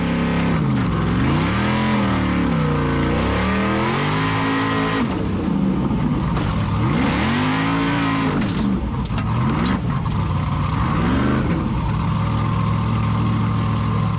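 A Formula Offroad truck engine revs hard on a hill climb at Egilsstadir, Iceland. The revs are loud and close, surging and falling repeatedly in rough waves across the whole stretch.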